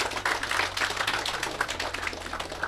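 An audience at a youth football camp gives steady applause, many hands clapping continuously and fairly close for the whole short stretch.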